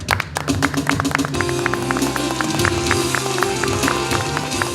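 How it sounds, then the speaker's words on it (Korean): An audience applauds at the opening ceremony of a traditional crafts institute, with a steady crowd of clapping and distinct sharp individual claps up front, while sustained tonal sound and low murmuring run underneath. "박수 부탁드립니다"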